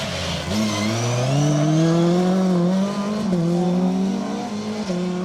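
BMW rally cars racing through a corner on a stage of the Rali Menai Stages 2023: loud, close engines scream and rise in pitch continuously, then ease slightly and climb again.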